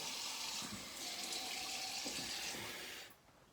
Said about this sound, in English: So a bit of a cold rinse as well.